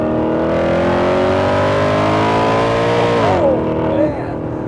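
A 2009 Maserati Quattroporte Sport GTS engine, heard up close, holds a steady loud note, then drops in pitch as the car slows down. Near the end it burbles and fades.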